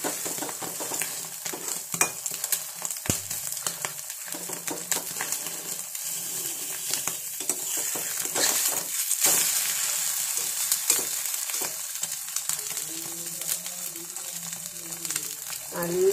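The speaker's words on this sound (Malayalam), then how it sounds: "നല്ലപോലെ എണ്ണ ഇട്ടിട്ട് നല്ലപോലെ എണ്ണ ഒഴിച്ചെടുക്കണം, അതാണ് മുട്ടയ്ക്ക് നല്ല ടേസ്റ്റ്" An egg fries in plenty of oil in a pan with a continuous close crackling sizzle, dense popping and spitting that holds steady for the whole stretch, with no voices.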